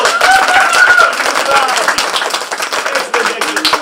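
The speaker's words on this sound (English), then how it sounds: "Everyone, round of applause." An audience claps for the cast of a children's stage play of The Lion, the Witch and the Wardrobe, loud close clapping with bright voices and cheers mixed in.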